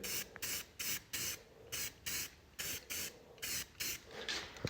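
Short bursts of direct spray from a cleaning nozzle hiss on and off in a steady rhythm, about a dozen sharp pulses with brief gaps between them, close and fairly loud with no talking.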